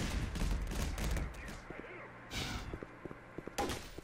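Grenade blast and gunfire in the Black Mesa video game, a loud burst of thuds and crackling shots at the start, then scattered sharp impacts and another explosive burst near the end.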